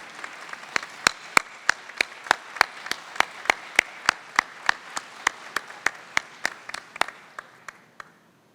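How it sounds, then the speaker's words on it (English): Audience clapping for a mathematics prize winner at an international mathematicians' congress award ceremony in Barranquilla, Colombia: about twenty sharp, evenly spaced claps ring out clearly over a faint crowd wash, thinning and fading at the end. "Let us give a big round of applause to Pablo Schmerkin."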